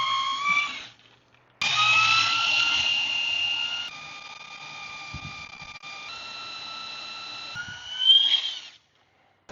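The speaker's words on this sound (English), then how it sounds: "So now I'm going to drill some holes in there" A power drill whines steadily into the metal of a trailer brake assembly, pausing briefly, then grinding on at a high pitch that rises near the end before cutting off.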